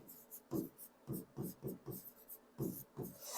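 Writing on a classroom board comes in short scratchy strokes, close and fairly quiet, in an uneven rhythm of separate bursts.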